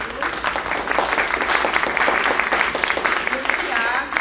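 A seated audience applauds at a panel discussion on ableism in cinema, a dense, steady patter of many hands clapping throughout, fairly close and full.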